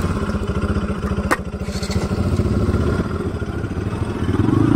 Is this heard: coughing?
no